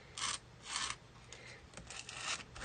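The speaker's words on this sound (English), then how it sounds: "I'm just doing a quick scrape, get anything extra and kind of press it down" Excess HeatnBond sparkle paste scraped off a surface in short back-and-forth strokes, a faint rasping scratch repeated several times, close but quiet, with no talk.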